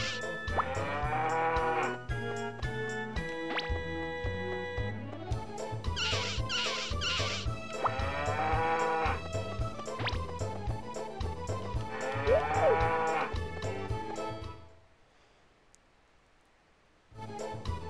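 Cows moo in the farming video game Harvest Moon 64: several loud, drawn-out moos follow one another over game music and effects, then the sound drops to near silence near the end.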